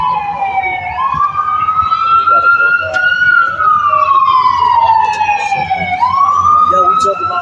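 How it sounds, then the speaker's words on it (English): An ambulance siren driving by on a Philadelphia street, loud and close, its wail rising and falling in long sweeping cycles over faint traffic noise. "we got the ambulance driving by"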